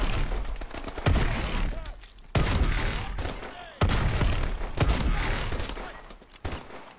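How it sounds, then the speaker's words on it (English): Shotgun blasts in Call of Duty: Advanced Warfare, a futuristic sonic shotgun firing about five loud, booming shots at uneven intervals, each with a sharp attack and a decaying tail, with no talking over them. "It's like a sonic shotgun."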